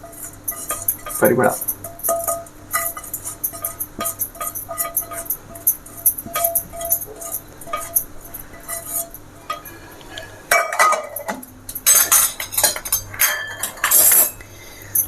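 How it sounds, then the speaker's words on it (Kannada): A tempering mix is stirred into sesame rice (yellu chitranna) in a metal vessel, giving intermittent clinks and scrapes of a spoon against the pot, with a voice speaking briefly over it. "ಈ ಒಗ್ಗರಣೆ ಮಿಶ್ರಣ ಇದಕ್ಕೆ ಹಾಕೊಂಬಿಡಿ."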